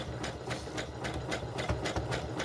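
A home sewing machine runs steadily, its needle ticking in a quick even rhythm as it stitches an appliqué edge on a 100% cotton doll bodice, close up with a low motor hum.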